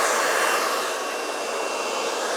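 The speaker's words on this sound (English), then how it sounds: "You want to click blue on your blow dryer." Brazilian Blowout ionic hair dryer on its blue setting, a loud, steady, close airy whoosh running continuously without a break.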